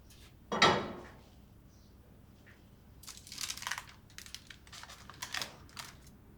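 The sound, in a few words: opening a hot Dutch oven and dropping bread dough in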